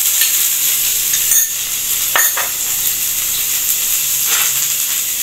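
Cumin seeds and ginger garlic paste fry in cooking oil with a loud, constant sizzle, broken by a few sharp spoon scrapes and clinks against the pan.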